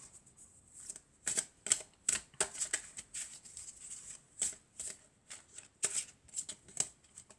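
Fairy tarot cards are shuffled by hand in a quiet room, a series of crisp riffling and flicking bursts in irregular rhythm, close and clear, with no speech.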